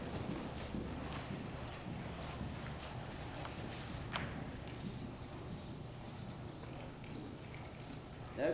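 Horse hooves canter around an arena, a steady soft rhythmic clip-clop beneath low background noise, faint and continuous throughout, with a brief louder knock near the end.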